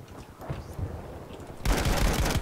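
An MG34 machine gun in a video game erupts into a loud, dense, sustained burst of rapid fire, cutting in sharply after a stretch of quieter, scattered battle noise.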